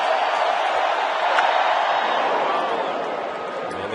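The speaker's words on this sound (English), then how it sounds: "And the oohs and ahs from the crowd." Baseball crowd at a 2010 NLDS playoff game lets out a rising, sustained ooh and ah after a big swing by the slugger Howard, a broad wash of many voices that stays loud for several seconds.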